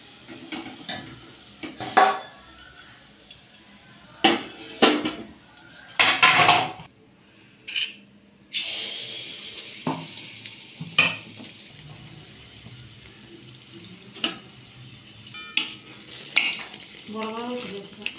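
Pitha cakes frying in a pan of oil, with the metallic clinks and scrapes of a utensil against the pan in scattered bursts. A faint sizzle sits in between, and a few quiet bits of activity come close by.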